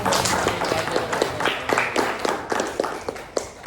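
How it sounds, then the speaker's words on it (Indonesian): A class at an Indonesian school claps hands together, a few people producing loose, uneven rhythmic claps that repeat close by for several seconds. "Tepuk tangan dulu dong."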